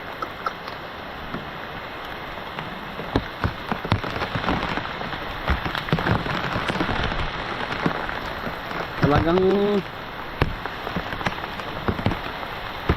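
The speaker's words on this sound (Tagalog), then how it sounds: "Lakas ng ulan" Heavy rain pours down in a rural Philippine village, a dense, steady hiss of drops striking surfaces with sharper drips and splashes, and a voice speaks briefly through it.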